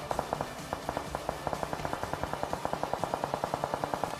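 Rapid, evenly spaced gunfire from a PUBG Mobile match runs continuously as sharp repeated cracks over a dense game soundtrack, with no talk.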